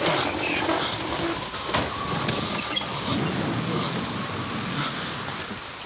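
Steady rain pours down during a thunderstorm, a dense hiss on surfaces with faint creaks, moderately quiet and continuous for several seconds, with no thunder clearly standing out.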